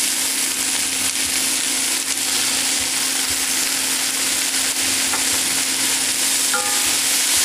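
Summer squash and chili peppers sizzle and fry steadily in a hot pan, a loud continuous crackling hiss with no pauses and no voices.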